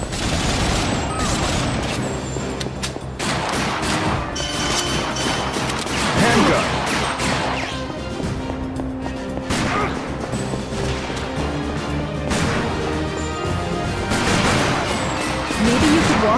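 Machine gun fire from the Time Crisis 4 arcade shooter rattles almost continuously and loudly, mixed with crashes and impacts, with a few brief lulls between bursts.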